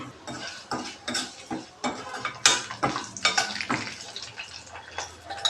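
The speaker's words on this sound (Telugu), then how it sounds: "ఇప్పుడు ఇందులో ఆయిల్ హీట్ ఎక్కిన తర్వాత ఒక 4 లవంగాలు, ఒక స్టార్ ఫ్లవరు, 1 ఇంచ్ దాల్చిన చెక్క ముక్కలు 2, ఒక 2 బిర్యానీ లీవ్స్, ఒక స్పూను జీలకర్ర వేసుకొని ఫ్రై చేసుకోవాలి" Whole spices (cloves, star anise, cinnamon stick pieces, bay leaves and cumin seeds) fry in hot oil in a pan, with repeated spoon stirring and scraping clatter over a soft sizzle, close and steady.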